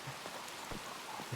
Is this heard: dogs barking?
no